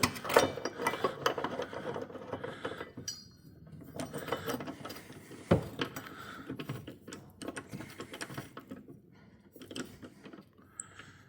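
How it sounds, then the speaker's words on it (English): A socket ratchet works a bolt tight on a Mustang BMR rear lockout, with quiet clicking ratchet bursts and metallic knocks and clinks scattered throughout, fairly faint and close. "probably going to need the socket because the bolt goes up inside of here"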